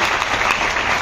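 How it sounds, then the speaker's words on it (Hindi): A crowd at a Hindi poetry recital gives a short, dense burst of clapping, loud and unbroken, with no voice over it. "अगर आपको अच्छा लगा हो तो मुझे थोड़ी सी अच्छी तालियां बजा के"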